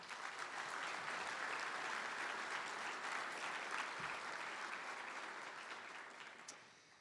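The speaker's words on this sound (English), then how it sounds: "So just a round of applause for them" Guests at an awards dinner applaud the sponsors with a full room of clapping. It stays steady, then gradually thins and fades toward the end.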